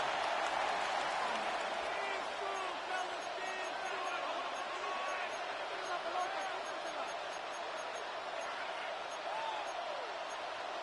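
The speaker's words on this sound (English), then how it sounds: "This crowd is making it tough down deep in the red zone." Steady crowd roar filling a football stadium as the offense lines up near the goal line, a dense continuous wash with scattered whistles and shouts rising and falling throughout, with commentary voices faintly mixed in.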